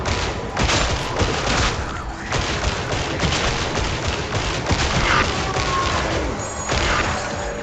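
Battle noise from a Warhammer 40,000 video game: a dense, loud wash of gunfire and blasts with a sharp burst near the start and another swell near the end, continuous throughout.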